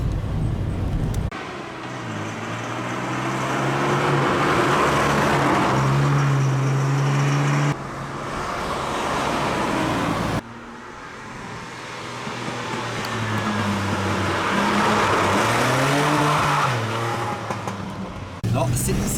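A Ford Capri's V6 engine accelerates hard through the gears, each rising roar broken by brief shift pauses, heard from inside the car with a voice speaking over the engine.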